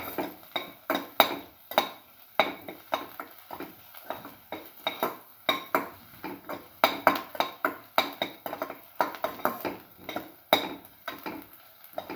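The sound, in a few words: stirring food in a pot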